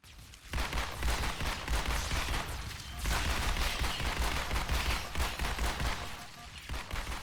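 Rapid pistol fire in the Halo video game, dense back-to-back shots in sustained volleys with a short pause near the middle, loud and close with no voice over it.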